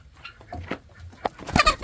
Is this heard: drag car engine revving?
no